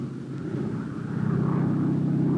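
Skytrain tow planes taxiing at full throttle, a steady droning propeller-engine roar that swells louder partway through and holds, heard alone without voices.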